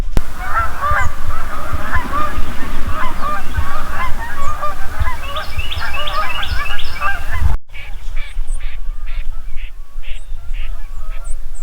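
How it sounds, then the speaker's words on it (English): Geese on a pond honk loudly and repeatedly in a noisy chorus, then the calls drop back and a few more distant honks follow. "I hear geese on it, so they're gonna fly here"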